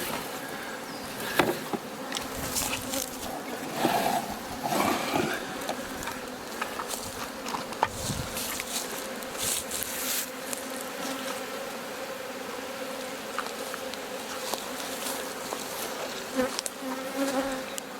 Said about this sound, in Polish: Pszczoła się jeszcze będzie kręciła, zanim zacznie przechodzić przez ten poławiacz